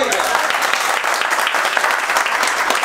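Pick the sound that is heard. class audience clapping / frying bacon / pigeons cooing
class audience clapping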